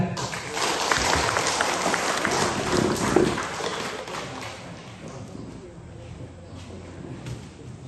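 An audience at a co-op organic coffee farming project event in Sabah applauds to welcome Datuk Sri, a burst of clapping that is strongest at first and then fades over several seconds, with faint voices underneath.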